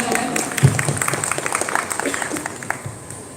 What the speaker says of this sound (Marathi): सगळ्यांनी टाळ्या वाजवाव्या.